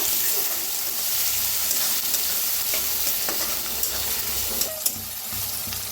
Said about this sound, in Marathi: कोथिंबीर बरोबर असं भाजायचं, म्हणजे छान येते सुगंध।